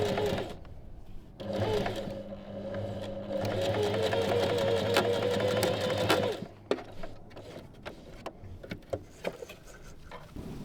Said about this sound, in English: you're securing it with the edge stitch